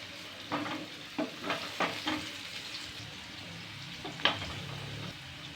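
Finely chopped medium-sized onion in about a tablespoon and a half of hot oil in a pan, sizzling and frying with a few stirring bursts, close and steady without talk.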